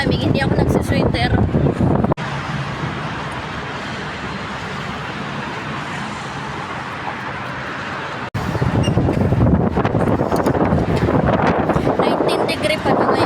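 Strong cold wind buffets the microphone in a loud, steady roar, with louder gusty stretches at the start and end where a voice talks over it.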